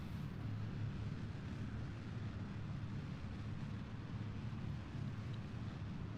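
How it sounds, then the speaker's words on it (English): Spacecraft engines in a space flight video game give off a steady, low, rumbling roar with no speech over it. "Listen to those engines."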